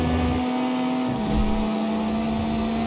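Ford GT race car engine in a racing video game sprint event, a loud steady high drone of revving engine holding one pitch with a brief dip midway, continuous and close with no talk.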